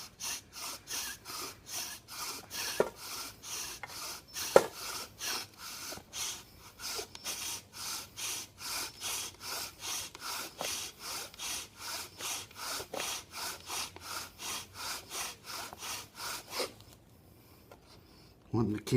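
Steady rhythmic rasping of a bow drill spindle rubbing against wood, with dozens of quick back-and-forth strokes close up. It keeps a regular pace and stops just before the end.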